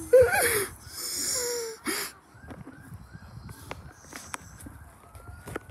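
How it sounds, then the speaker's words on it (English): A faint, distant ambulance siren wails steadily under outdoor background noise at Victoria Park, after a few louder, rough bursts of sound at the start. "Sounds like an ambulance."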